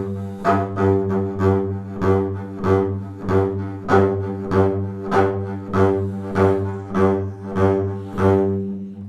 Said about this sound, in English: I might give a bit more pressure to my downstrokes and let the upstrokes be a little lighter